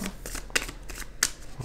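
A deck of playing cards for a Sherlock Holmes board game shuffled by hand close up: quick riffles and soft slapping shuffles with two sharper snaps, steady throughout.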